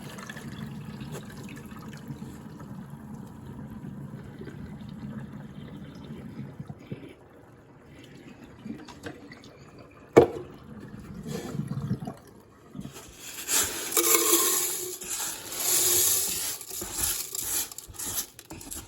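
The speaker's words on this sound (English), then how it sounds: "we'll dump our water out here, and then we'll pour our pins back into our cylinder" Wet brass-tumbling cleanup: water trickles and drips for several seconds as it is dumped from the tumbler, then a brighter, louder rattling splash follows as the pins are poured back into the cylinder.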